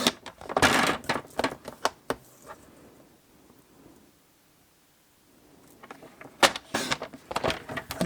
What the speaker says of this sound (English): I'm going to cut my white.